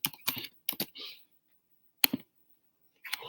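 Short bursts of computer keyboard typing, as if a chat message is being entered, come in quick clusters of keystrokes separated by pauses. They sound close and fairly loud.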